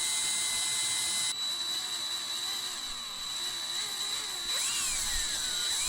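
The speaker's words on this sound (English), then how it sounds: "So now we're going to drill down a little" A power drill whines steadily and close up while boring fret holes in a vintage Hohner Shark fin guitar, with a brief dip in pitch partway through before the motor picks up again.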